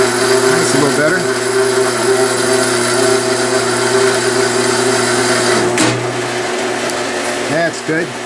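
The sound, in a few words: band saw cutting wood stock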